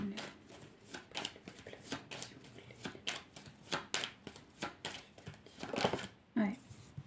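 Tarot cards are slapped and slid onto a table one over another in a quick string of crisp, close taps and shuffles, with someone talking quietly in French throughout.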